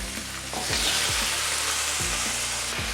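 Desi chicken pieces fry in mustard oil with tomato and cooked spice masala, giving a steady, loud, close sizzle with bursts of crackle as the meat is stirred and settles in the hot pan.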